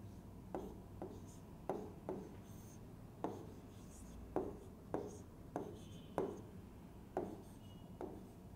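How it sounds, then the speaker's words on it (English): Pen or marker drawing a transmission line diagram for an electromagnetics lecture, a series of faint, regular scratchy strokes about every half second. "Let me draw the transmission line."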